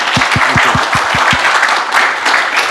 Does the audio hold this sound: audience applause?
yes